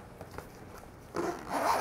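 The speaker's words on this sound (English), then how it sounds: "looks like you've got two zippers. All right, so probably end up opening and closing it" Zipper on a Razer Barracuda Pro gaming headset carrying case being pulled open, a close, raspy zip that starts softly and gets louder and more continuous partway through.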